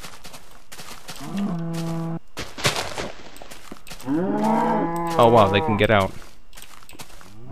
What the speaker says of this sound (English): Did I show you guys the baby cow already?